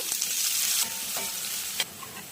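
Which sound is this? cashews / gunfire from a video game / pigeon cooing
cashews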